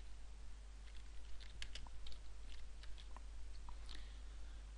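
A view title typed on a computer keyboard, a quiet run of irregular key clicks over a steady low hum, with no talking.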